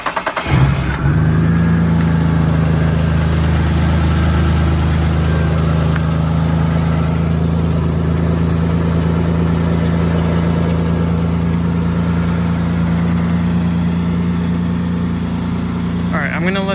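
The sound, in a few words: Mitsubishi Eclipse GTS engine starting and idling with cold air intake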